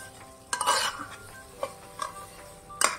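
Khoa being stirred into carrot halwa cooked with desi ghee in a pot: a spoon scrapes and clinks against the metal in a few separate strokes over a faint sizzle, with no talking.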